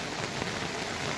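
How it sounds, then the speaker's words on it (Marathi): Heavy monsoon rain pours down in a dense, loud, unbroken hiss of drops hitting surfaces. "सकाळपासूनच मुसळधार पाऊस आहे"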